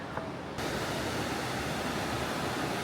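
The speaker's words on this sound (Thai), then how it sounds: "ฟังเสียงน้ำไหล" Riverside water flows in a steady, full rushing hiss that swells in after a brief quieter moment and then holds constant, broad and enveloping.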